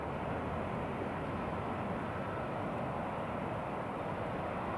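A KLM airliner approaching Newcastle airport, heard as a steady, broadband engine roar at moderate distance, constant throughout and without voices.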